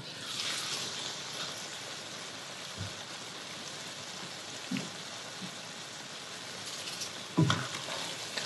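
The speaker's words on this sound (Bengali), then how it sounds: "এখন আমি ঢাকনা খুলে একটু নেড়ে চেড়ে দিব।" Okra fritters hiss in hot oil in a pan with the lid off, giving a steady close sizzle broken by a few soft knocks as they are stirred.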